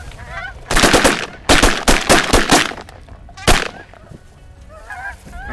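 Hunters fire shotguns at geese and ducks in a waterfowl hunt, with several loud, sharp blasts in quick bursts and one later single shot, while goose honks and calls carry on faintly before and after.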